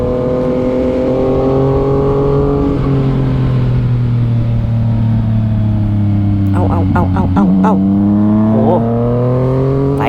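A Yamaha MT-09 motorcycle engine revs hard at speed on a winding road while chasing a smaller scooter, a steady loud drone whose pitch climbs and dips with the throttle, under continuous talk from the rider.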